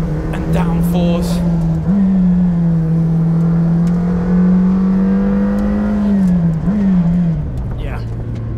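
An 800hp McLaren Senna hypercar is driven hard, its engine holding a loud, droning tone that climbs slowly, dips briefly and then settles, while someone talks over the sound.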